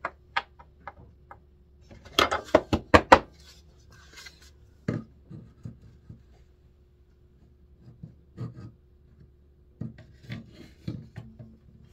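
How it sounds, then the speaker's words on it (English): Rough rasping strokes of a saw grinding through dried glue, a fast cluster of strokes early, then slower scattered scrapes and taps, close by. "Sawing through glue isn't always fun."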